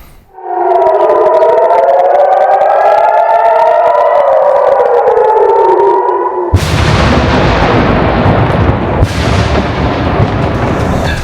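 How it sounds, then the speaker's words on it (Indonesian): A loud air raid siren in Kiryat Shmona, northern Israel, wails, its tones rising and falling, then gives way abruptly to heavy, rushing booming noise. "Hampir setiap 10 menit sekali sirine berbunyi"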